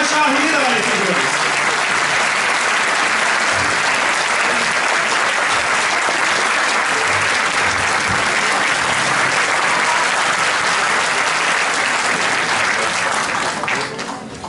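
Sustained loud applause from a concert audience after a Turkish classical music choir performance, steady dense clapping filling the hall and tapering slightly at the end.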